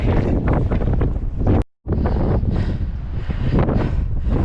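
Wind roars and buffets the microphone while cycling uphill on a weight-loss ride, a loud continuous rumble broken by one brief cut-out near the middle.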